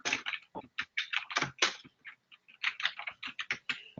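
Typing on a computer keyboard, a quick irregular run of crisp key clicks heard up close and alone, with short pauses between bursts of keystrokes.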